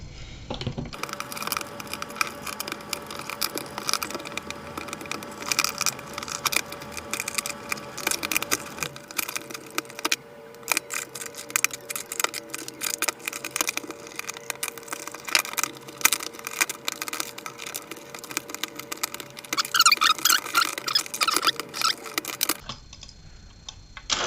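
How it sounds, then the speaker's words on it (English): Screws being backed out of the rear shell of a Nerf Stryfe blaster, a run of faint, close clicks and small plastic ticks, irregular and spread over several seconds with no talking. "let's unscrew all the screws at the back here"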